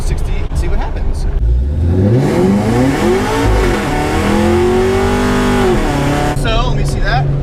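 A 2013 Camaro ZL1 launches hard from 0 to 60, its loud engine roaring and climbing through rising revs with a gear change midway, drowning out all else, then easing off at the end.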